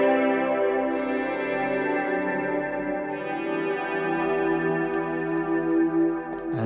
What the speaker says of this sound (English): Now the last track I've got here is this guitar swell.